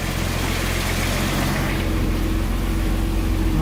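A Datsun 280Z engine idles steadily just after startup, a continuous low rumble with an even, unbroken drone and no voices.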